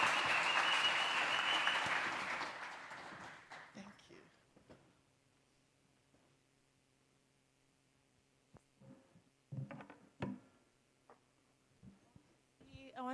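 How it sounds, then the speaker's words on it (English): An audience at a startup event breaks into loud, sustained applause that fades out after a few seconds, followed by quiet room tone and scattered small knocks. "please let's give her a roaring round of applause."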